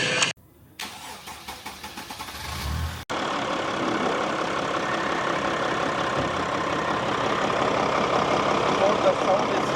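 A van engine with a turbo exhaust leak starts after a few seconds of quieter noise, then runs steadily and fairly loud and close, with a rough, hissy exhaust note; people talk briefly before it starts.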